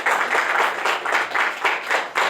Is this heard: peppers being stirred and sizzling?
no